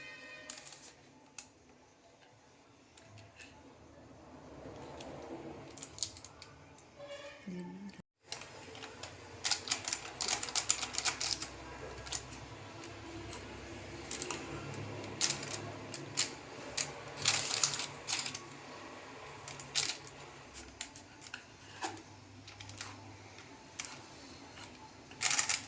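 A knife cuts through pieces of ginger in a series of sharp, irregular clicks and taps, close and fairly quiet, with a brief pause partway through and no talking.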